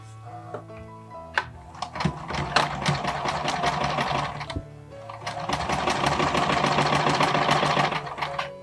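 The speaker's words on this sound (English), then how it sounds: "now I'm going to sew along here up to a 1/2 inch from the top of the skirt" A sewing machine runs in quick stitching bursts along the seam of a small Barbie doll skirt, starting and stopping, then running steadily and loud toward the end, with no talking.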